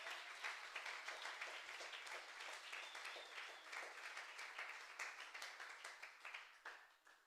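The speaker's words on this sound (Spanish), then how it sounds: "Ahora sí, dile un aplauso fuerte." A church congregation breaks into loud, sustained applause, with dense rhythmic clapping that holds steady before tapering slightly at the end.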